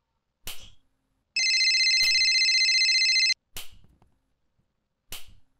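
A phone in the video game Baldi's Basics rings as a single sustained electronic trill of about two seconds, set among sharp isolated clicks and thuds before and after, with otherwise silent gaps.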